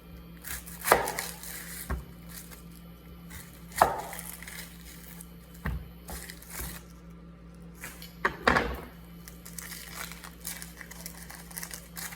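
An onion is cut on a board for salsa verde while a skillet heats nearby, giving a few separate thuds and knocks spaced seconds apart over a quiet low hum.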